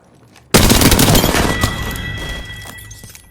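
Gunfire erupts in a battle royale video game: a sudden loud volley of rapid shots that rattles on and slowly fades, with no voices.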